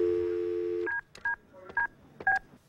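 A telephone gives a short steady tone, then a quick series of dialing beeps in separate bursts, close and clear against a quiet line.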